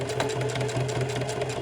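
A sewing machine runs steadily while stitching jean legs back together for custom streetwear, a close, even mechanical hum with a rapid needle rhythm and no talking.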